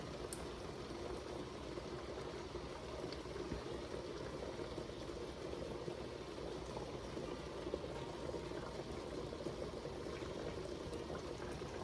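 A pot of water boiling steadily on a stovetop, a constant bubbling rumble and hiss at close range, with no one speaking.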